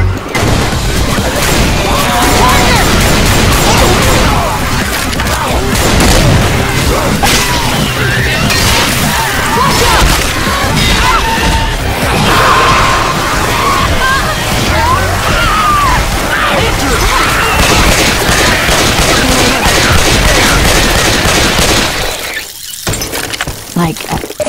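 A loud, dense in-game firefight in the Fallen Fortress map, with continuous gunfire, crashing blasts and a grenade explosion amid shouting voices, running nearly nonstop before a brief drop-off near the end.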